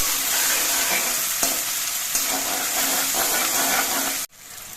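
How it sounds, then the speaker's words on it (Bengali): Onions sizzle steadily in hot oil for mutton curry, a loud continuous frying hiss with occasional stirring clinks, cutting off abruptly near the end. "পেঁয়াজগুলো কিছুক্ষণ ভেজে নিতে হবে"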